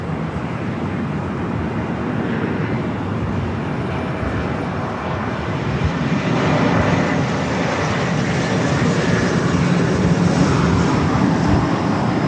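A fixed-wing airliner takes off from runway 24 left at LAX, its engines giving a broad, continuous roar that swells louder over several seconds, with no voices over it.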